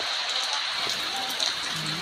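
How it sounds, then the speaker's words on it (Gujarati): Rain falls steadily as a dense, even patter of drops on a surface, continuous and fairly close, with no voices. "ત્યાં વરસાદ ચાલુ થઈ ગયો"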